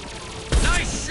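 A short burst of gunfire in Mass Effect 2 on PS5, a sharp loud onset followed by a rattling volley over a low background din.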